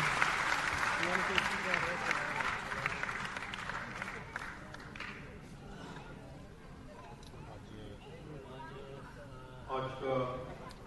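An audience at a Raipur celebration applauds the chief minister's address, loud clapping in the first few seconds that gradually thins and fades as a voice continues speaking over the room.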